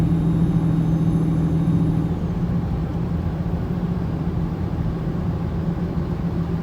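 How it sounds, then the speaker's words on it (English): A truck's engine brake working on a downhill grade while hauling cars, a loud, steady, close mechanical drone with a droning whine that shifts after about two seconds. "engine brake has dropped 3 gears at the top of the hill"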